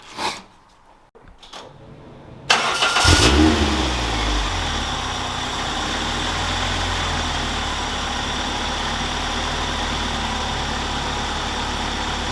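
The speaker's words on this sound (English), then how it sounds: "The car is idling perfectly now" A Toyota MR2 Spyder with a swapped-in 2ZZ engine starts after a few clicks and brief cranking, catches with a short rev, then settles into a steady, even idle that runs close and unbroken for about nine seconds.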